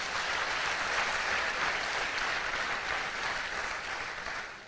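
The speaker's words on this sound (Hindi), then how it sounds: "आपके लिए एक जोरदार तालियां होनी चाहिए।" Loud, dense applause from a training-session audience, a sustained wash of many hands clapping that holds steady before tapering slightly at the end.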